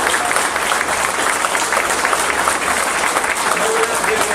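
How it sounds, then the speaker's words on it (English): Steady, dense applause fills a company Christmas party, a continuous wash of many hands clapping with some voices mixed in. "we all need to give them a round of applause for what they've done for the company"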